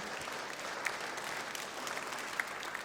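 Faint, distant applause from a church congregation, a soft wash of clapping with a few sharper claps standing out, quiet and without speech.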